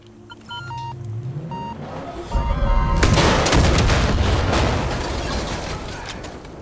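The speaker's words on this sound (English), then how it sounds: "I'm amazed that some enemies survived that explosion." A loud, booming explosion in the video game Far Cry 5 erupts after a few electronic tones and engine hum, followed by a long crackling roar that slowly fades.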